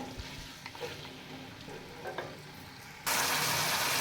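Chicken pieces browning in cooking oil in a pan for a Pakistani-style macaroni dish sizzle softly while being stirred, and the frying suddenly swells into a loud, steady hiss near the end.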